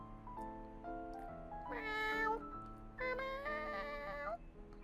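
A person imitates cat meows with a drawn-out, wavering series of voiced mews that rise and fall in pitch, close and fairly quiet over faint background noise.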